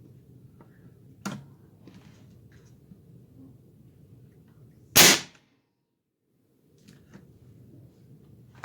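An Airforce Condor .25 air rifle, running on a 3600 psi carbon-fibre tank, fires a 33.5 grain NSA slug. It gives one loud, sharp crack that decays quickly over faint low background hum, with a small click heard earlier.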